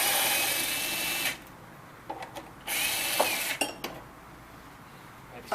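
A power drill backs a screw out of the pedal rod riser on a Yamaha G2 Disklavier grand piano, two bursts of whirring separated by short clicks and handling knocks.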